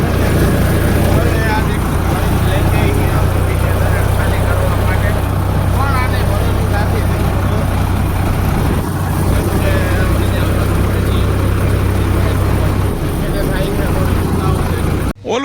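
A tractor engine runs steadily throughout, a loud, close, low droning rumble with a constant pitch, with voices talking over it.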